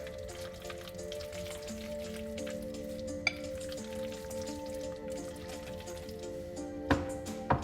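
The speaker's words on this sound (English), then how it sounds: "I just love that sound of the creamy noodles." Creamy, spicy peanut noodles are stirred in a pan, giving soft, wet, sizzling crackles and a few sharp clicks over a faint hum.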